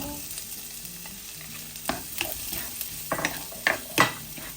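Garlic and onion sauté in melted butter in a pan, a soft steady sizzle broken by a few sharper scraping stirs toward the end, with no talking.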